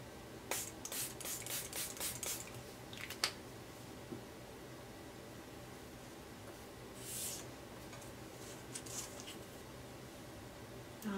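A spray bottle spritzes water over card-making ink, a rapid burst of short hissing sprays followed by a later pair of quieter spritzes amid soft handling rustle, close and faint.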